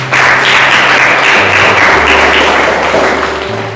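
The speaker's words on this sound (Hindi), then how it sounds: "सही है, ताली बजाएं" A church congregation claps together during a Hindi sermon, loud continuous applause throughout with a low steady hum underneath.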